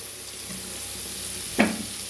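Steady hiss of coconut oil sizzling in a pan, with a brief louder crackling burst near the end; no voices.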